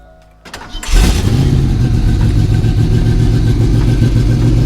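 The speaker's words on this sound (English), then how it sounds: "we're gonna do a startup on this thing because she is loud as hell" A cheap running Ford Mustang 5.0 V8 fires up in a driveway: a brief starter whir, then the engine catches with a loud burst and settles into a steady, heavy idle rumble.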